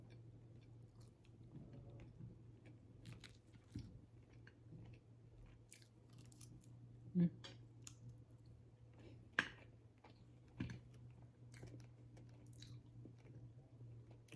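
Quiet, close chewing of crispy fried milkfish, bones included, with occasional sharp crunches and bites standing out over a steady low hum.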